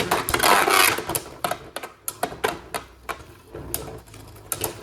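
Beyblade Burst Pro Series spinning tops clash in a battle arena, giving quick, irregular metallic clicks and rattles over a brief whirring hiss, close and fairly quiet.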